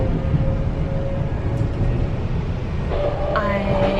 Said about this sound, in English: I am on the way to Brisbane Airport on the train.